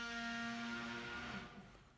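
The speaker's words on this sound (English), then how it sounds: "They're actually installing a new lift in the flat." Construction noise from a lift being installed in a flat, heard as a steady, fairly loud tonal droning and grinding with a strong hum that fades over about two seconds.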